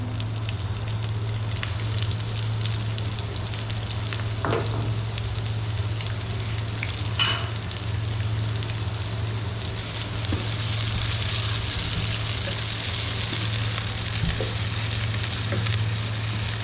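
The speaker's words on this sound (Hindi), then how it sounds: "ऑयल गर्म हो गया, मैं इसके अंदर ये प्याज डाल देती हूँ।" Chopped onions fry in hot oil for a biryani, giving a steady, even sizzle throughout with occasional stirring clicks and scrapes.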